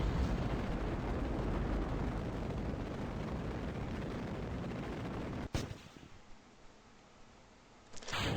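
Separation motors firing in Kerbal Space Program RP-0, a loud sustained rocket roar that cuts off abruptly with a sharp burst midway, leaving faint residual hiss before a brief resurgence at the end.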